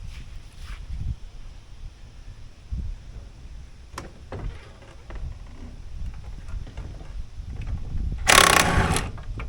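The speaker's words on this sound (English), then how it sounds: "Let's see if we can get that last nut out." Metal clicks, clanks and ratcheting as a wrench works the last nut loose on the motor of a Polaris Indy 500 Classic snowmobile, close up and moderately loud, ending in a louder burst of scraping and rattling.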